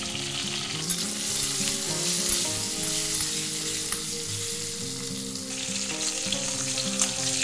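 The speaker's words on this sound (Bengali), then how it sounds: "তো পটলগুলো ভালো করে ভেজে নিয়েছি নরম করে।" Pointed gourd (potol) pieces frying in oil in a pan, seasoned with salt and turmeric, giving a steady close sizzle with occasional stirring scrapes throughout.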